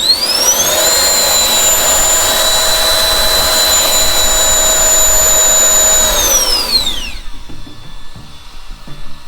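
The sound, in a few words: high-power handheld blower fan running in turbo mode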